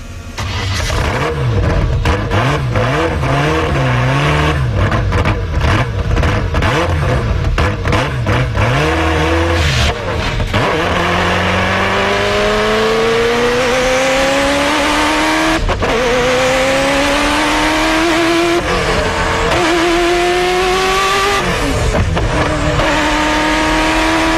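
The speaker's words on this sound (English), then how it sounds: "the V8 in the F40 LM made a noise which was insane" A loud Ferrari F40 LM V8 race car engine revs hard in sharp bursts, then climbs through gears in long rising howls, close and continuous.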